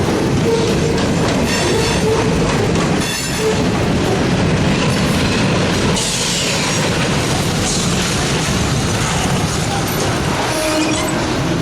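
A Reading and Northern freight train rolls along the rails near Nesquehoning, with loud, close clattering wheels, rumbling cars and brief metallic squeals throughout.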